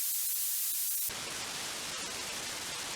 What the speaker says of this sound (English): or blue noise,